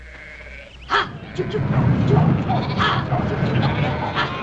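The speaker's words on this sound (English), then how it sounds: "help me get those sheep on the move" Sheep bleat several times over a busy outdoor din, with people talking and shouting nearby.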